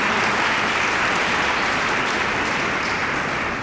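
Loud, sustained applause from a church congregation at a Father's Day Mass, honouring the fathers, dense and even throughout with no voices over it.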